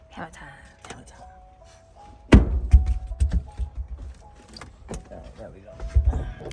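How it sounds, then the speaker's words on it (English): Hammer blows on the window frame of a van during a busted-window replacement: a loud, irregular run of sharp knocks and thunks starts partway through, with quiet handling noises and faint voices in the background. "Hammer time."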